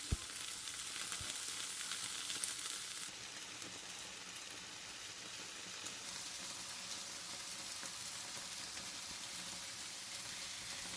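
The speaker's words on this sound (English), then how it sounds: "Let the meat fry on its own a bit." Minced meat for lasagna fries in a pan with a soft, steady sizzle and crackle that carries on evenly throughout, fairly quiet and with no voices.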